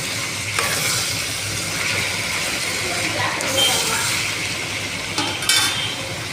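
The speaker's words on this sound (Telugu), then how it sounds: "ఇది బాగా సిమ్లో పెట్టి మంచిగా మగ్గించుకోవాలి" Ivy gourd curry sizzling gently over a low flame in a pan, with a steady soft frying hiss and occasional clinks of a spoon stirring against the metal.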